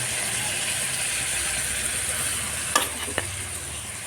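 Mango pickle with sugar and a little water in a pan, a soft continuous sizzle with two brief scraping stirs of a spoon against the pan late on, close and quiet.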